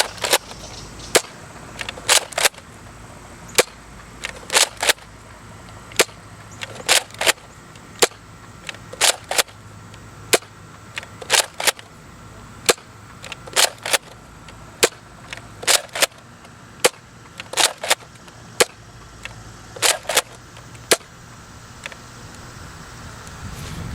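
Nerf Elite Retaliator blaster, modified for range, firing darts at angled shots: a long series of sharp spring-plunger snaps at irregular intervals, some in quick pairs, loud and close with no talk.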